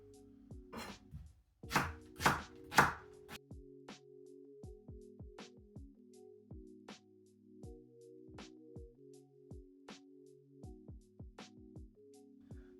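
A knife chops through a leek on a chopping board for leek and potato soup: a steady series of sharp, close strikes, heavier in a burst near the start, over a low continuous hum.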